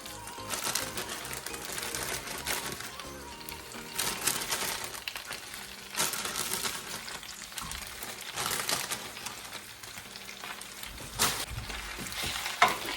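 A pan on low heat crackles softly while food is stirred, and repeated scraping strokes of a utensil rise above a steady light sizzle.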